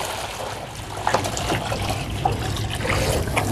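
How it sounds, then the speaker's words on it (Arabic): Water poured out for pigeons to bathe in, a steady close splashing trickle with a low continuous rush running through the whole stretch. "حط عليهم الميه"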